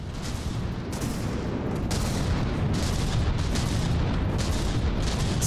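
Kinetic cannons on warships in a From the Depths battle fire in rapid repeated heavy booms, a dense loud barrage of overlapping blasts with no voices.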